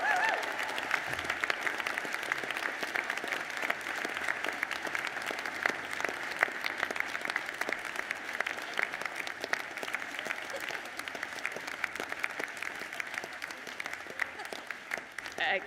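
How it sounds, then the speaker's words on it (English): A crowd at a college of medicine and public health graduation claps steadily for about fifteen seconds, a dense, even wash of applause heard at a distance and fairly quiet. "Whooping, clapping, cheering, blowing kisses, it's all allowed."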